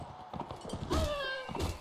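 Horse in Mount & Blade: Warband, with rapid hoof clatter followed by a brief high whinny, close and fairly loud over game battle noise, no talk.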